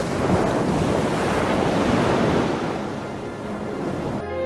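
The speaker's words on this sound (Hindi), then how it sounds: "समुद्र, सुंदर नीला समुद्र।" Steady broadband roar of surf rolling onto a blue sea, continuous and fairly loud with gusty wind buffeting throughout and no voices.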